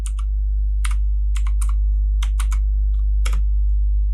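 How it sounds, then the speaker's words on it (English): Keys on a computer keyboard are tapped in short, uneven clusters of crisp clicks with gaps between them, close and clear over a steady low hum. "we can start by typing the name of our project"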